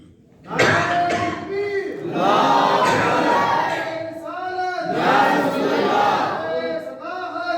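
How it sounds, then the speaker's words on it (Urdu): At a religious jalsa in a mosque, a crowd chants the Takbir slogan in loud, rising group shouts: several surging bursts of massed voices with brief dips between them. "لگاؤ نعرے تکبیر"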